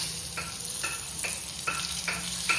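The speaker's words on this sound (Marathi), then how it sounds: "आता खडे मसाले टाकतलो." Whole spices, bay leaf, cinnamon and cloves, sizzling steadily in a hot pan at home while making butter chicken, with a few soft stirring scrapes at regular intervals, no talk.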